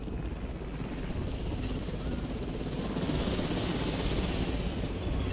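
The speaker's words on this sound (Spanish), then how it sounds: "Vamos, helicóptero, dale fuerte." A helicopter in the video game Jurassic World Evolution flies with a steady, loud rotor roar and whooshing that fills the whole stretch without a break.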